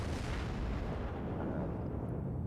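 A battleship's main guns firing in World of Warships, from the American New Mexico, a heavy rumbling boom that fills the whole clip and stays loud and dense without pause.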